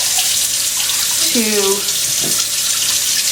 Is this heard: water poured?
yes